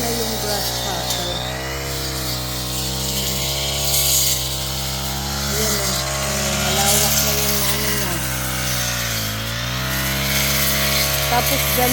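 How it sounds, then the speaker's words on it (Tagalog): A motorized grass cutter drones steadily up close, its engine pitch wavering up and down as it works, with occasional voices underneath. "Maingay yung grass cutter."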